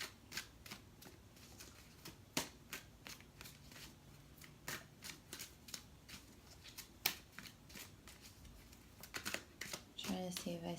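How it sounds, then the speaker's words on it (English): Angel cards shuffled by hand during a tarot reading, giving repeated soft riffling bursts and clicks at an irregular rhythm, close up, with quiet pauses between and a brief louder flurry near the end. "This is the longest I've had to shuffle the angel cards."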